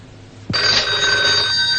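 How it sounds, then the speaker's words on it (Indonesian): An old telephone bell starts ringing suddenly after a brief quiet stretch, a loud, sustained metallic trill close by in a 1970s home setting. "mana sih dari tadi telepon bunyi nggak diangkat-angkat?"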